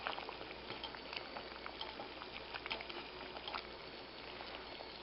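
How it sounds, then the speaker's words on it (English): Trail stew with pre-cooked bacon jerky boiling in a pot at a camp, a steady close bubbling and popping that runs unbroken throughout. "let it keep boiling"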